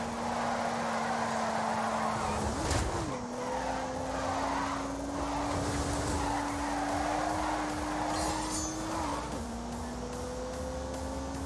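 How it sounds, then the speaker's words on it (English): A turbocharged 3-litre straight-six with 365 horsepower in The Grand Tour game drones steadily as it accelerates, its pitch climbing and dropping through shifts, with a brief tire skid or squeal about a quarter of the way in. "unleashed 365 rampaging horsepowers from the turbocharged 3-litre straight 6"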